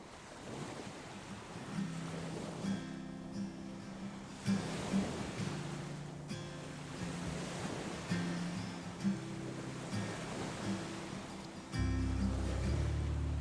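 Ocean waves and surf wash steadily at an island in Los Roques, Venezuela, a continuous rolling roar with gusts of wind buffeting the microphone and a heavier low rumble near the end.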